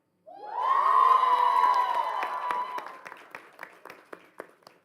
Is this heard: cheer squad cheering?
yes